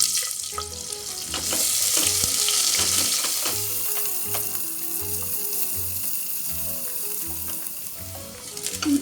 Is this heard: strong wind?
no